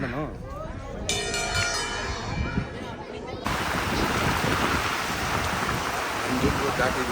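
Heavy rain pours in a dense, steady roar that swells and stays loud throughout, with a voice speaking briefly early on.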